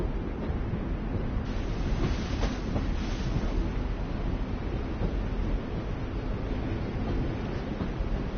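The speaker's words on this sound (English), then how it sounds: "You always pick the train." A train rumbles steadily through a PS4 video game, with a dense, low, continuous roll and faint rhythmic clatter, heard alone at moderate loudness.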